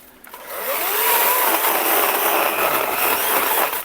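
A ProCraft PKA 45 cordless chainsaw undercutting the top of an acacia tree, a steady high buzzing whine holding close and loud for about three seconds with a slight pitch sweep as the chain bites into the wood.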